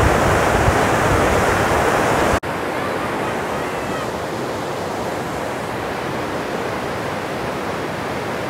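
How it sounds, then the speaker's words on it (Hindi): Fast-flowing water rushes loudly and steadily through the Indira Gandhi canal near the point where the Bhakra canal passes beneath, a dense close roar with one brief break before the flow continues unchanged. "अब आप इस पानी की आवाज सुनो और इसकी स्पीड देखो"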